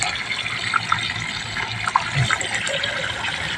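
Water pours from a hose into a freshwater fish pond stocked with milkfish fry, a steady rushing gush with faint splashing and bubbling on top, moderately quiet and continuous with no voices.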